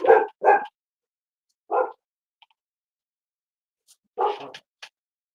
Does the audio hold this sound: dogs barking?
yes